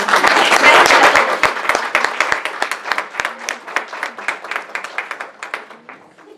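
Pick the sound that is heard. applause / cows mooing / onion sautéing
applause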